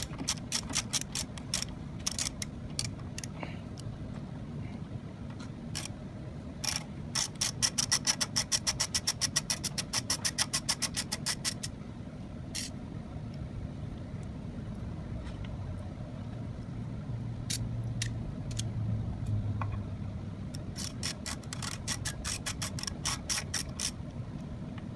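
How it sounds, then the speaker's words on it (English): A bottoming tap cuts threads with repeated clicking, ratchet-like turns in irregular bursts over a low steady hum, fairly quiet and close, with no talking. "we'll pull this one back out and use our bottoming tap now"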